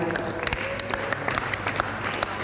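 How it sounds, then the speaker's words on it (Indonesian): At a discussion, an audience breaks into steady applause, a close, dense patter of claps running throughout with sharper individual slaps standing out. "terima kasih untuk Al-Omar atas jawaban dari tepuk tangan dulu semuanya"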